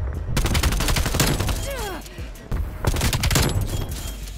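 Rapid bursts of AK-74U submachine gun fire in a Black Ops Cold War multiplayer match, loud and close, in several rattling strings with short pauses and a brief voice-like sweep between them.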